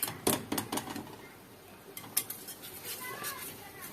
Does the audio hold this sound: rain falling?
no